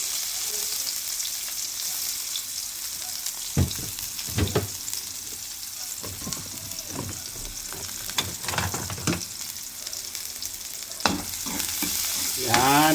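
Garlic and onion frying in a pan, a continuous close sizzle broken by repeated clattering stir strokes of a utensil against the pan, with no talking.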